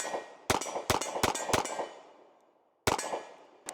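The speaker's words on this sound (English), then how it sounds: "let's go ahead and shoot another magazine through our Sandhawk Single Stack" A Nighthawk Sandhawk Single Stack pistol fires six sharp, loud shots outdoors: four in a quick irregular burst, then a pause as the echoes die away, then two more spaced shots, each ringing with a metallic crack.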